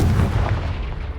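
A Confringo blasting spell erupts in Hogwarts Legacy inside a cave, a loud sustained rumbling boom with heavy low end that gradually fades over about a second, with no voices.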